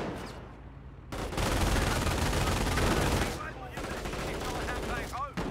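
Sustained machine-gun bursts from a half-track in Company of Heroes, dense and loud battlefield gunfire running through most of the clip with a quieter gap near the start and brief voices underneath.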